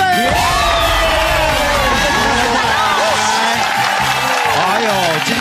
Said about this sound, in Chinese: 今天总共答对了六题，掌声鼓励鼓励